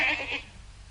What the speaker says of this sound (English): Why are you all so afraid of the little goat?